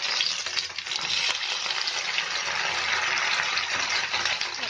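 Chopped onion, tomato and capsicum sizzle steadily in a hot pan, a continuous bright crackling hiss that stays fairly loud and even throughout, with no talking.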